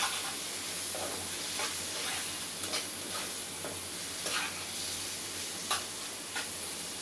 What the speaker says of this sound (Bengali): এটা কষাইতে কষাইতে মুরগির দুধটা সিদ্ধ হয়ে যায়, পেঁয়াজটা তো ভাজা ভাজা হয়েই যায়।